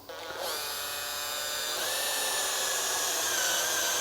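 A drill-driven paint mixer churns thick 2k high build primer at slow speed, giving a steady, close, strained whine that holds without a break.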